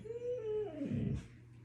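A dog lets out one close whimper that slides downward in pitch and ends in a short, breathy whine.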